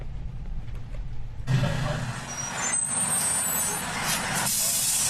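A fire truck arrives with a loud hiss of air brakes, heard from a distance on a body-worn camera. The rumble of its engine and faint beeps follow.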